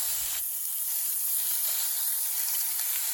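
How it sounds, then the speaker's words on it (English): Pork fat rendering in a pan over an outdoor fire, a steady loud hiss and sizzle that carries on without a break and without voices. "Render down all that fat."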